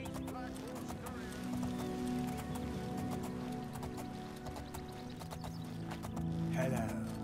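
Horse hooves clip-clop faintly in The Elder Scrolls IV game, steady and low under game music with a voice talking over it.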